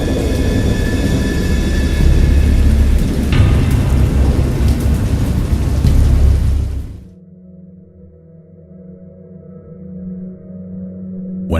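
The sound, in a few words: thunderstorm with rain and thunder, sound effect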